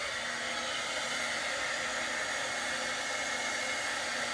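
A heat gun blows hot air over the paint on a Dollar Tree mailbox, giving a steady, even whooshing hiss that runs unbroken and close the whole time, with no voices.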